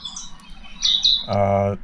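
Recorded wild bird song played back through a phone in the BirdNet bird-identification app: a few thin, high chirps close by, then a louder, lower harmonic call near the end.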